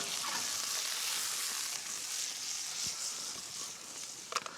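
A fillet of meat fries in a pan with a steady close-up sizzle and crackle, with no talking over it. A few small clinks and spatters land near the end.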